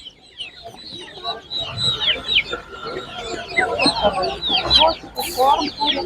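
Hens cluck repeatedly amid a busy, noisy crowd at a Ukrainian animal market, with bursts of chatter and chicks and other poultry calls mixed in.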